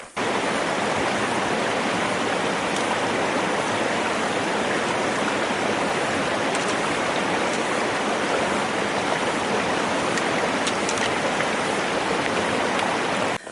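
River rushing along a backcountry valley in New Zealand's North Island ranges, a dense, steady broadband roar of flowing water, constant and fairly loud from start to finish with no voices.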